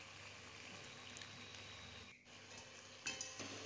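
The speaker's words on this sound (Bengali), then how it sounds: "আলুর সাথে আমি খুব ভালো করে মশলা ফ্রাই করে নেব।" Spices fry with potatoes and okra in a pan over a medium gas flame, giving a soft, steady sizzling hiss with a brief stir or scrape near the end, faint and close with no voices.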